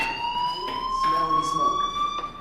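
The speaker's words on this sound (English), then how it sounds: "Hey, do you hear that fire alarm?" A school fire alarm rings in the video game Life is Strange: a steady, piercing electronic tone holds without a break, with a few muffled background bumps beneath it.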